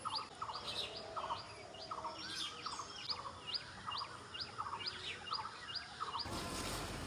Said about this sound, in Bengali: এবার দেখো একটা পাখি।